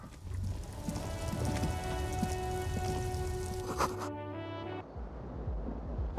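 Steady rain in the video game Disco Elysium patters and hisses throughout, with a faint tonal hum underneath that briefly shifts near the end.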